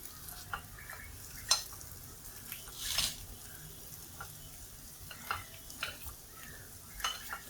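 Banana snack pieces fry in oil in a pan with a steady soft sizzle, while sharp scraping clinks come now and then as each piece is turned over, close by.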